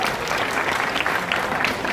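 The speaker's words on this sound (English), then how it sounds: "So big round of applause there for her." Applause from an outdoor crowd at a tiger presentation at a theme park, a steady round of clapping that continues throughout the short stretch.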